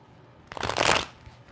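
A new tarot card deck being shuffled by hand, a brief riffling burst of cards lasting under a second, close and fairly loud, with no talk.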